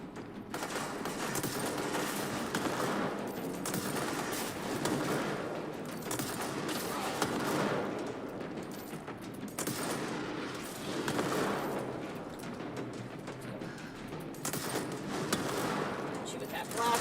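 Sustained gunfire and explosions in the video game Control, heavy and continuous, with rolling bursts of shots and booms that swell and fade over the whole stretch while a voice talks underneath.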